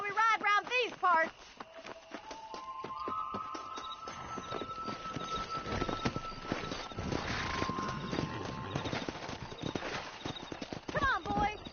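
Horses' hooves clip-clop at a steady galloping pace in the Red Dead Redemption western game, loud and close, with music and a rider's voice heard at the start and end.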